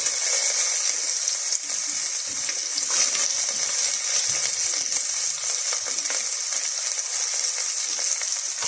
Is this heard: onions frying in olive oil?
yes